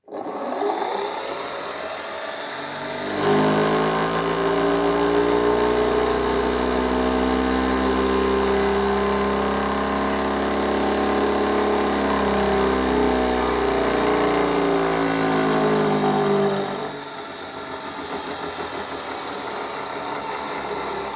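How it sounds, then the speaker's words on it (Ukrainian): An electric motor switches on after about three seconds and runs with a steady whirring hum and clear tonal whine, holding level until it cuts off near seventeen seconds and leaves quieter background noise. "Так, от я буду включати двигун."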